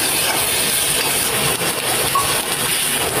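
Cooking oil sizzling loudly in a pan while making adobong dilaw, a constant close hissing crackle throughout with no talking.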